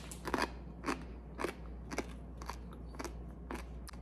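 Homemade turkey meat chips are bitten and chewed, giving eight evenly spaced, sharp crunches about half a second apart, close and fairly quiet, with no talking.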